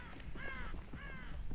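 A crow in a Dead by Daylight match gives two loud, raspy caws about half a second apart, close by over a low rumbling ambient background.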